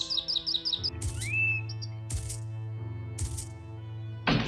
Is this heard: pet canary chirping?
yes